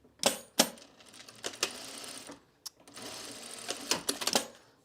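A sewing machine stitches the finished facing edge of a self-drafted blouse in several short bursts of rapid whirring, with sharp clicks and thumps between runs, close and fairly loud, with no talking.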